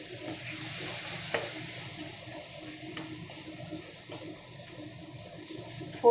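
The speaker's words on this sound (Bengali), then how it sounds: "এখন সেদ্ধ করে রাখা টমেটোটা দিয়ে দিলাম।" Boiled tomato going into a hot pan of spiced oil with turmeric on a low flame, giving a steady, close sizzle with stirring scrapes and a sharper burst near the end.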